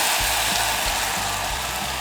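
Orange juice mixture hits hot spiced butter in a pan and sizzles as a steady, even hiss, with a soft low bubbling underneath.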